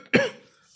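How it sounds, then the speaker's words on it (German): One sharp, short cough close by in a dusty room, then quiet. "Hör auf zu husten."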